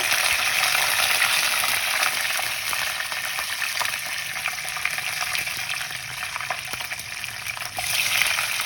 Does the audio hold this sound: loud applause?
no